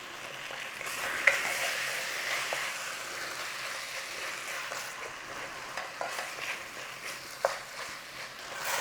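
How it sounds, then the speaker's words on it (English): Chicken pieces frying with spices and tomatoes in a pan for a home-style spinach curry, a soft steady sizzle with occasional scrapes and clinks of stirring, close and fairly quiet. "Just make sure you keep giving it a little stir while that chicken's starting off in there."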